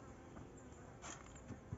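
A small bee swarm in a tyre hive buzzes as a steady, faint drone, with a few slightly louder swells and light knocks.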